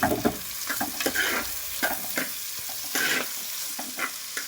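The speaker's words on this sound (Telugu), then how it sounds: "ఉల్లిగడ్డలు మంచిగా వేగాలి, అప్పుడే పులుసుకు రుచి." Onions fry in a pan for a dried-fish tamarind curry, turmeric just added, with a loud steady sizzle under repeated rhythmic scrapes of a spatula stirring close by.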